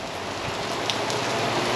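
Rain falls steadily on a racetrack in Vigan, a dense, even patter close by with no voices.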